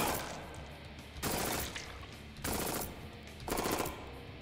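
Revolver fire in the sci-fi shooter Jupiter Hell: three sharp, heavy bursts spaced about a second apart, each with a ringing tail, loud and alone.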